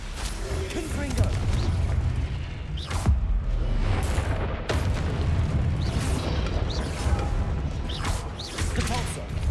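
The Confringo explosion spell in Hogwarts Legacy goes off amid dense, continuous combat noise, with sharp blasts near 3 and 4.7 seconds standing out over a steady rumble.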